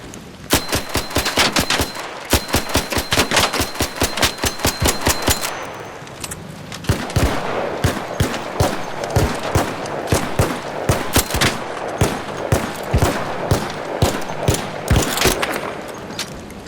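Rapid gunfire from the Bettina weapon in the video game Arc Raiders, loud bursts of evenly spaced shots with a brief pause near the middle, then more sustained firing with metallic clinks.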